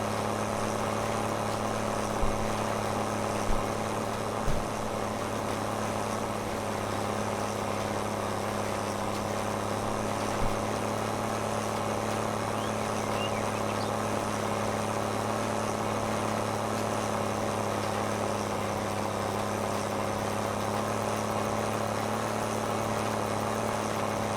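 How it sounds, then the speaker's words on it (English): Tractor engine in Farming Simulator 22 droning steadily while bogging down at slow speed, a continuous low hum with a few faint knocks, no talk over it. "See what I mean about this tractor? If you go slow enough, it just kind of bogs down."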